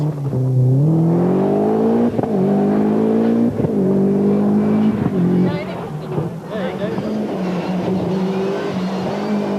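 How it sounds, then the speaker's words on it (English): A four-wheel drive Opel Calibra rally car accelerates hard at a 1993 night rally, its engine note rising and falling through gear changes, loud and close throughout, with a commentator talking over it. "here we see Doctor and Badenberg in their four-wheel drive Calibra"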